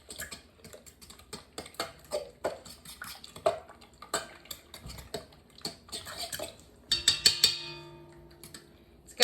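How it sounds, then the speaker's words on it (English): A fork stirs cracked eggs and other sandwich roll dough ingredients in a mixing bowl, making quick, irregular clicks and scrapes against the bowl's side, with a brighter clinking burst near the end. "we are going to give this a little mix. We are incorporating all together."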